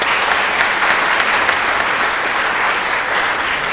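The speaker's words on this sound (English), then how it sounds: "So big round of applause please for our guests today." A conference audience gives a continuous, full round of applause for the panel guests, loud and close, with individual claps standing out from the crowd.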